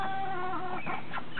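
Soft clucking and chattering calls from ducks, close by, with several short vocal bursts near the end.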